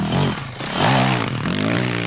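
A Yamaha WR400F four-stroke enduro motorcycle engine revs in short rising and falling bursts, close and fairly loud, with some mechanical clatter between pulls.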